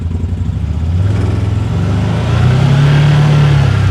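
CFMoto Zforce 950 Sport 4 side-by-side driving, a steady close engine drone with wind rush that swells louder as the engine note climbs midway.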